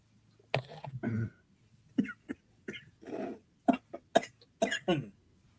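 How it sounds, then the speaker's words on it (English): Several sharp coughs in quick bursts, close by, with short pauses between them and some throaty, rough-edged hacks. "Now the ramen has forsaken you. It's making you cough."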